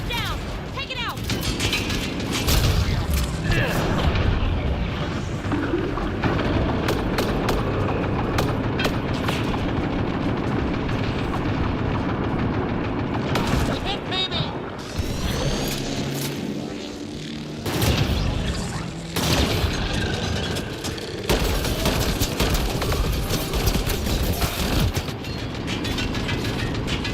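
Cannon fire and combat in the video game Mass Effect Andromeda, with dense booming blasts, mechanical clanks and explosions layered over loud, continuous battle noise.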